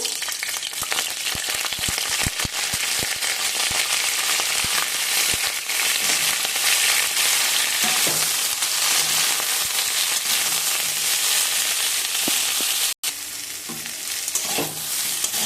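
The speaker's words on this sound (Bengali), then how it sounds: "এবার বেরেস্তাটা নামিয়ে রেখে সবজিগুলো ভেজে নেব" Vegetables for cauliflower biryani fry loudly in oil, a continuous close sizzle with frequent crackles, pops and stirring scrapes throughout.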